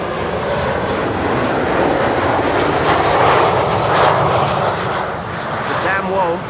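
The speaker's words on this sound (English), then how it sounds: "Embraer 190." Embraer 190 jet arriving at Schiphol's Kaagbaan runway 06 roars loudly overhead, a broad continuous engine rush that swells and holds, with a voice heard faintly near the end.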